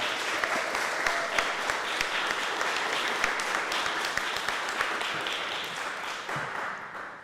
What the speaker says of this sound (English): Give her a warm round of applause.